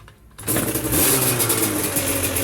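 A Yamaha TZR250 two-stroke motorcycle is kickstarted with the choke on and catches quickly, then holds a loud, raspy, buzzing idle close by after a quiet moment before it fires.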